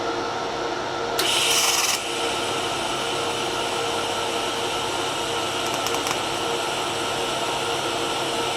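Pulsed TIG welding at 20 pulses per second on an R Tech TIG 160FPP welder gives a steady, even hiss, with a brief louder burst near the start and no speech.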